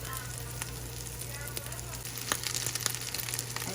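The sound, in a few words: cold cooked rice frying in a pan for fried rice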